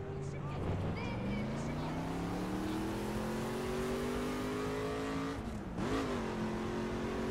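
A car in The Crew racing game drives toward a jump ramp, its engine whine rising steadily in pitch and then dipping sharply, loud and continuous throughout.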